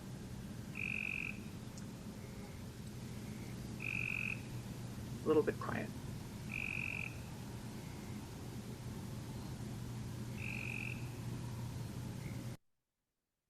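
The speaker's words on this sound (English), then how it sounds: "So you can hear the pulses in the gray tree frog more like a whir" Gray tree frog calls play back quietly at intervals, four short pulsed trills spaced a few seconds apart over a low steady hum, with a brief voice passing in the middle.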